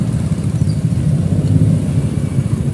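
Motorcycles and traffic rumble steadily close by, heard from an electric trike rolling along a busy road, a continuous low engine drone without any talk.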